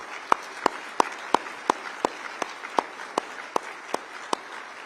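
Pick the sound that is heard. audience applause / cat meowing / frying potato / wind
audience applause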